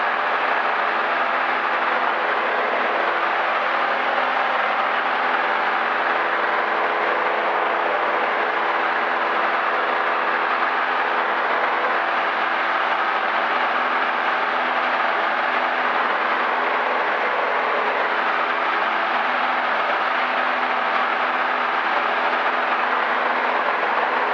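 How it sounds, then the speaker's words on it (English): A small single-engine airplane at a quiet northern Florida airport drones steadily and loudly throughout, a constant engine roar with another plane rolling and taking off nearby, heard from inside a cockpit. "See Nick rolling behind me, taking off."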